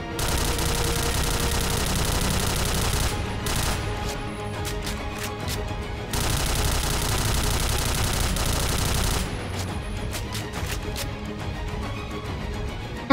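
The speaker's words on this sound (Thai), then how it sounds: "ในส่วนของปืนเดี่ยวนะครับเราควรยิงครั้งละ 2-3 นัดก็ดีนะครับ" A Kriss SV fires in the video game, with long, loud, rapid bursts of automatic gunfire, then choppy shorter bursts of a few shots each, up close and without talk.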